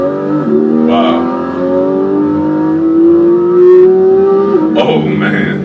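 A Porsche 718 GT4's naturally aspirated engine revs up in a long rising sweep, loud and close, then drops off, with voices talking over and around it.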